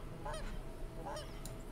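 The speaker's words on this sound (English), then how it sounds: "geese flying over" Geese honk as they fly overhead, two or three distinct calls spaced about a second apart. They sound moderately distant over quiet open-country background.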